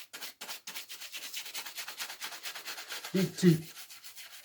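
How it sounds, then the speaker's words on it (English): A stiff shoe brush sweeps dried polish residue off a leather shoe in quick, rhythmic back-and-forth strokes, close and steady, with a short spoken phrase near the end. "use a brush to take off the residue polish off the shoe"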